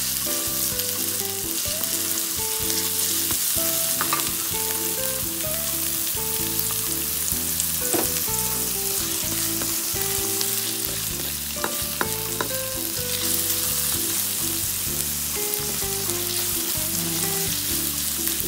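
Garlic and onion fry in a pan, a continuous close sizzle with crackling and occasional stirring, heard alone with faint music-like tones in the background.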